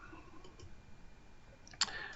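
A single sharp mouse click launches a compiled program in Uniface 10 development software. It sounds as a short, close tick near the end of an otherwise quiet, faintly humming room, with no talking.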